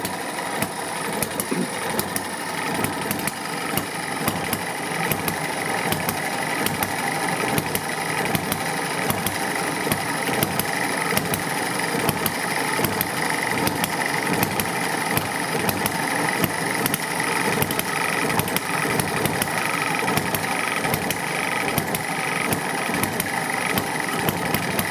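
A single-cylinder Eachine ET1 hit-and-miss engine runs steadily nearby, its regular firing producing a rhythmic chugging pulse under a constant mechanical clatter, with no voices.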